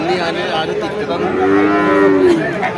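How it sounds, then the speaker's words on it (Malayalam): Young buffalo calves at a livestock market moo loudly and close by, several long drawn-out calls overlapping against steady animal background noise. "എരുമക്കന്നാള ഉണ്ട് കേട്ടാ"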